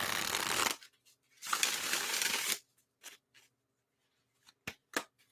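Tarot cards are riffled in two loud, hissing bursts close by, followed by a few light taps and clicks as the deck is squared, with no voices.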